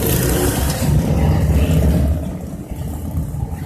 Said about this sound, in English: that was a motorcycle crew coming through